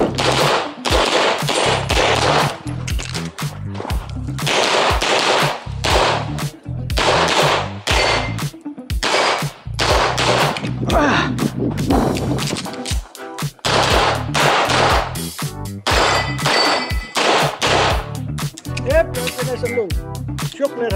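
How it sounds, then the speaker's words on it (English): Pistol fire on an IPSC Level III match stage: loud, close, rapid strings of shots repeating throughout, with brief pauses between strings and some talk mixed in. "Here, makeup shots on the Mickey Mouse."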